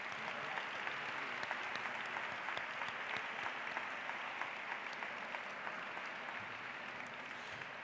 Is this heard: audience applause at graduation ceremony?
yes